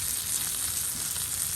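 Hilsa roe and prawns fry in oil in a pan for a dupiyaza, giving a steady, close hiss and sizzle with a few light crackles and no talking.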